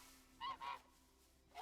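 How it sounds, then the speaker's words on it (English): Goose from the MTG Arena card game lets out two quick honks in close succession, faint and nasal, followed by silence and a third honk just starting at the end. "We'll honk the goose, play around with the goose a little bit."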